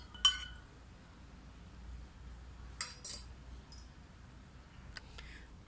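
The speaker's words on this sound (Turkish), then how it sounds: "Sonra bunu şöyle güzel bir şekilde karıştırıyoruz." A spoon stirs a water mixture for watering orchids in a glass, giving a few faint, scattered clinks and taps in a quiet room.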